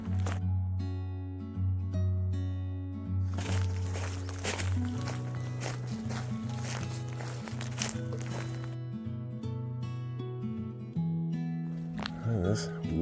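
Footsteps of hikers walking along the edge of the Suwannee River in Florida, a steady walking rhythm close by, mixed with people talking and sustained tonal background sound.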